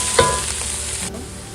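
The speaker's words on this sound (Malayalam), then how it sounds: "സവോളയും ഇഞ്ചിയും വെളുത്തുള്ളിയും ഒക്കെ നല്ലവണ്ണം വഴന്ന് വന്നു." Onion, ginger, garlic and green chilli sautéing in a pan for a slow-cooked mutton curry, a steady close sizzle with a brief stir scraping through it.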